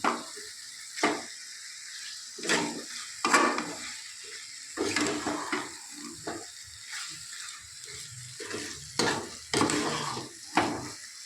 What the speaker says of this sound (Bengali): তো আগে একটু কষে নিই